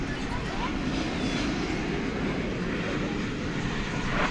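Jet airplane taking off from runway 18 left at DFW Airport at night, a broad continuous engine roar heard at a distance, steady and loud throughout with faint voices in the background.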